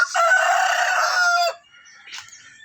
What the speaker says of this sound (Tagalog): Naa sila manok isa diri kulungan.